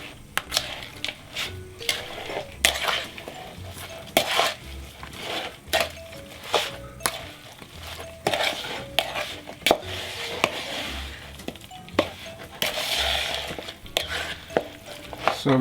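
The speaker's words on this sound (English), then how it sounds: "Then we're going to add the rest of our seasonings into it. Then I'm just going to mix this in." A spoon stirring seasonings into chicken for a Jamaican curry, with repeated close scraping and clinking against a bowl or pot in an uneven rhythm, no voice.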